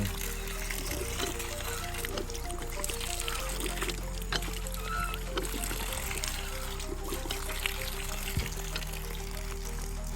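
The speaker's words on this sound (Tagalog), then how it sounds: "Yan, okay na po yung poso." Water flowing and splashing from a hand water pump outdoors, a steady rushing trickle with a low rumble and scattered clanks, and a voice faintly in the background.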